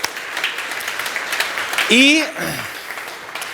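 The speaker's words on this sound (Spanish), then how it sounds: "Un aplauso al Señor" Church congregation applauding during a baptism service, a steady patter of clapping throughout with a voice speaking briefly over it midway.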